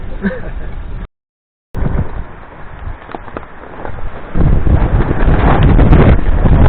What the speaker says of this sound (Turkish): Çok rüzgarlı ve yağışlı ıslandık.